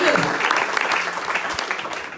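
A church congregation claps loudly and steadily throughout, a dense sustained round of applause in a worship service.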